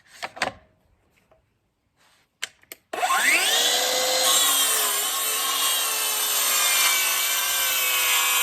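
A power saw bites into wood for a bevel cut on a homemade radiator cover outdoors, a sustained loud whining, rasping cut after a few brief knocks and handling sounds.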